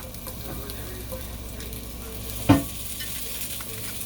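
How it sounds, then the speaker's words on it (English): Italian sausage sizzles in a cast iron skillet with a soft, steady crackle, interrupted once by a single sharp clank of a utensil against the pan; no one speaks. "I'm going to take this and put it into my cast iron skillet there"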